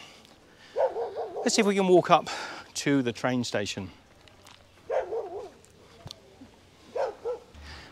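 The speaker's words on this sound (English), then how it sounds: "They'll bark a little bit" Street dogs bark a few times on a road in Ella, Sri Lanka, mixed in with someone talking close to the microphone as he walks.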